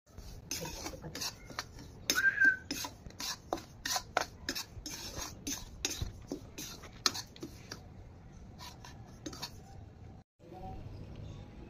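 A spoon stirs and scrapes semolina as it dry-roasts in an empty kadai, making a run of quick, gritty rasping strokes. The scrapes come close together and fairly clear over a quiet kitchen background.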